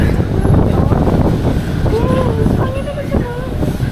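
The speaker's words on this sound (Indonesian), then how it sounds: "anginnya kenceng banget" Strong, persistent wind blowing through the streets of Beijing, a loud, gusty rush buffeting the microphone, with a person's voice speaking briefly in the background.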